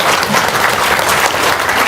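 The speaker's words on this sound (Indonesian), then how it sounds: "Tepuk tangan dong." A seminar audience applauds in a brief, loud, continuous burst of many hands clapping together.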